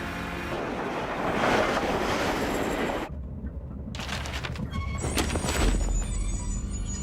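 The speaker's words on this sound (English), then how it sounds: "This train doesn't usually stop here." A train rumbles and hisses as it slows, with a brief quieter gap, then brakes screech and squeal at high pitch before it settles.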